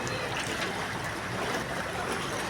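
Floodwater from Typhoon Carina rushes through a flooded street in Ampid, San Mateo, Rizal, a steady close-up churning and trickling flow without pause.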